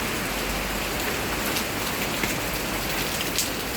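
Steady rain pours down, a constant dense hiss of drops on surfaces with no voices, close and evenly loud throughout.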